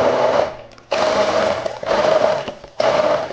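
An electric blender purees a green sauce of herbs, lemon juice, salt and vegetable oil, running in four loud, close motor bursts with short pauses between them.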